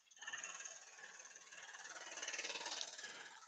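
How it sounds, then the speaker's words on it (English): A turned wood piece being sanded and smoothed on a spinning wood lathe gives a faint, steady, continuous hiss that holds evenly for the whole stretch, with no voices. "Sanding and smoothing now."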